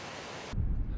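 Wind gusts hard across the microphone high on Wolf Creek Pass at about 10,700 feet, a steady hiss that turns into heavy low buffeting halfway through.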